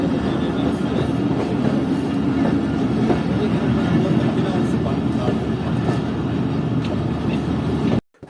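The Chaman Passenger train runs toward Gulistan railway station, a loud continuous rumble of wheels and carriages with faint rhythmic clatter, cutting off abruptly near the end.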